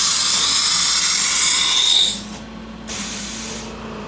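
A CNC router spindle running at 9,000 RPM gives a loud, steady high-pitched whine and hiss for about two seconds, then drops to a quieter hum with a brief near-silent gap before the tone resumes, with no talking.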